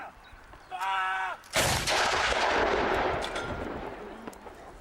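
A WW2 artillery gun fires a single ranging round at a battlefield reenactment in Hastings. A sharp, loud blast is followed by a long rolling decay, with a shouted order just before it.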